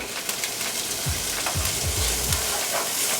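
Beans are stirred in a hot pan after spices have turned fragrant, a dense, loud sizzle with low scraping pushes from the utensil repeating several times in the middle.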